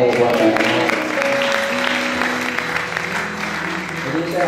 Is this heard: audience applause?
yes